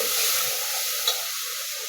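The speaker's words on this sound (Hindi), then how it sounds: "मसालों को अच्छी तरह भूनते हैं।" Spices with garlic, salt, chili and turmeric fry in a pan for dal chana as they are stirred, giving a steady close sizzling hiss with faint scraping.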